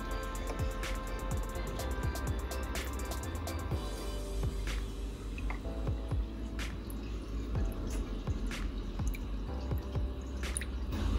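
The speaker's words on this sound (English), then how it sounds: "It's time to add 10 mils of ammonia to the tank water." Ammonia, about ten millilitres, goes into the water of a seahorse aquarium as a steady trickle with scattered drips and splashes, close and fairly loud, with no talk.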